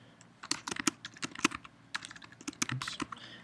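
Fingers type on a computer keyboard in a quiet room, the keys clicking in fast irregular bursts with short pauses between words.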